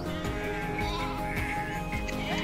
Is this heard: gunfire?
no